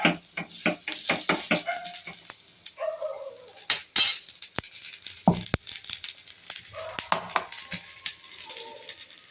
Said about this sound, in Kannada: ಬಸಳೆ ಕೂಟಿಗೆ ಮಸಾಲೆ ಹುರಿತಾ ಇದ್ದೇನೆ. ಕೊತ್ತಂಬರಿ ಕಾಳು, ಹಾಗೆ ಒಂದು ಸಣ್ಣ ಈರುಳ್ಳಿ ಹಾಕ್ಕೊಂಡಿದ್ದೇನೆ.